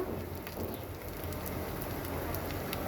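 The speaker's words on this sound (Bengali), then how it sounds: "তো চলো একটু আলুটাকে একটু হালকা ভেজে নিই" Potatoes fry lightly in hot oil in a home kitchen before going into a rohu fish curry, giving a steady, crackling sizzle like light rain, even and moderately quiet throughout.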